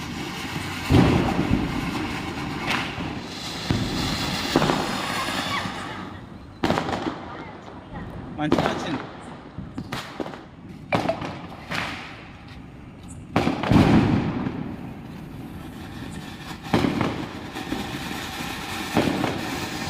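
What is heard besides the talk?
Diwali firecrackers bursting outdoors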